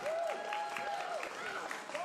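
A crowd at a women's wrestling tournament match cheers and claps steadily, with whistle-like calls rising above a distant, fairly faint roar of voices.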